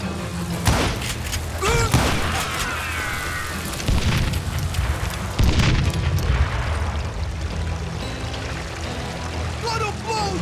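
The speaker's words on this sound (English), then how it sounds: "I got a lot more dynamite than you!" Dynamite explosions in the Call of Juarez Gunslinger video game, several heavy booms and thuds in succession amid chaotic game noise, with voices talking over the blasts.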